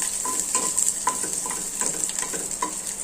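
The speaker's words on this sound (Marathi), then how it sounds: "यामध्ये टाकूया लसूण. लसूण फ्राय करायचा थोडा." Garlic sizzles in hot oil in a wok, a continuous bright hiss punctuated by light scrapes and taps of a stirring spoon at an uneven rhythm, close and moderately quiet.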